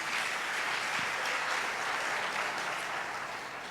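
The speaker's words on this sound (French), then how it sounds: "il faut l'applaudir très fort" Audience applause at an Ivorian political gathering, a steady dense wash of clapping holding loud and even throughout before easing slightly at the end, with no voices over it.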